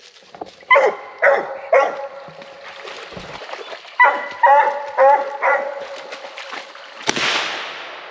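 A hunting dog barks at a raccoon treed during a Louisiana coon hunt, loud close yelps and bays in uneven bursts with whimpering between them, ending in a sharp noisy burst.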